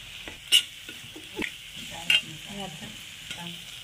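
Garam masala sautéing with salt in a pan: a soft, steady sizzle under a few sharp scrapes and clinks of a spoon stirring against the metal, close and fairly quiet.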